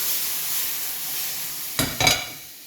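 Tofu caramelizing with maple syrup in a pan over a big flame, hissing in a loud steady sizzle, with two quick sharp bursts near the end.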